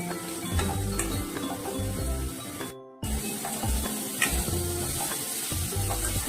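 Garlic and curry leaves frying in a pan for a potato and bean curry, a loud continuous sizzle with stirring clatter, briefly cutting out to silence midway before resuming just as strongly.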